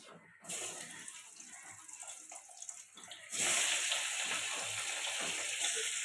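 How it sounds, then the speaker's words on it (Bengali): Bamboo leaf fish goes into hot oil in a wok, and a soft, steady hiss of frying swells louder partway through as the sizzle takes hold. "তেলটা গরম হয়ে গেছে এবারে কড়াতে দিয়ে দেবো মাছ"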